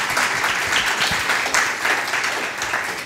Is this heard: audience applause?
yes